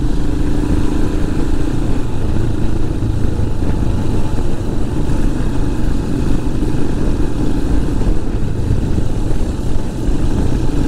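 A vintage motorcycle engine on a vintage bike rideout in Wiltshire, riding at speed while overtaking a Suzuki GN250: a loud, continuous engine drone mixed with wind rush, steady throughout with no talking.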